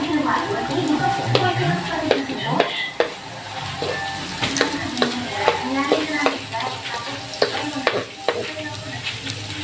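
Sliced ginger sizzling and frying in a hot pan as it is stirred toward golden brown, a steady crackle broken by frequent scraping stir strokes, with a person talking over it.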